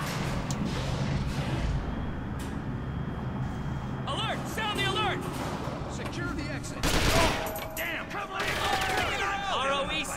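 Rapid bursts of gunfire fill a mission in the shooter Perfect Dark Zero, sustained and fairly loud throughout, with in-game voices and effects layered over the shooting.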